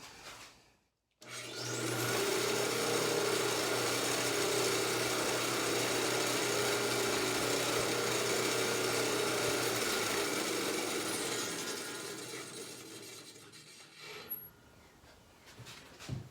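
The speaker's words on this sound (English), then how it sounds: "So here's a view of the BeltGuard in operation." A worktable sawmill with a newly built belt guard spins up and runs steadily with a loud, even mechanical whir and humming drone, then winds down and fades toward the end, with no talking.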